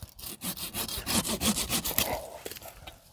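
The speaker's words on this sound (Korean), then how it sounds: "자 우선 톱을 좀 들었습니다." A hand saw cuts through a wooden branch being trimmed to make a candlestick, giving a close, steady run of rasping back-and-forth strokes that slow and trail off near the end.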